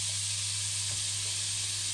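Kofta meatballs searing in a hot pan give off a steady, soft sizzle with a faint low hum underneath, continuous and close with no talking.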